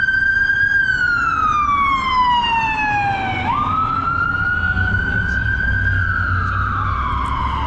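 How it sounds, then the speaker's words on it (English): A siren wails loudly nearby, its pitch sweeping down then up as it passes, with traffic rumble underneath and no one speaking. "let me let this ambulance go by"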